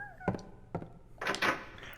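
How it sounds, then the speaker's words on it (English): Two dull thunks of a locked door being tried in the Silent Hill video game, evenly spaced and fairly quiet, followed by a longer rattling clatter of the handle and door. "Oh my god, all the doors are locked."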